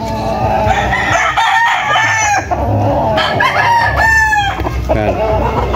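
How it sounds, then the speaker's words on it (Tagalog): Roosters crow loudly and close at a gamefowl farm, several overlapping cock-a-doodle-doo calls rising over steady clucking and farmyard bustle. "Yan mga kalaki, at marami silang manok dito."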